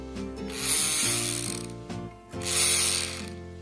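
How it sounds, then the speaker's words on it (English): A battery-powered Super Quiller paper quilling tool whirs with a buzzing, ratchety mechanical motor sound, running in two close bursts separated by a brief dip, with no voices heard. "Super quiller, it runs with the battery. You have to insert two cells and it works like this."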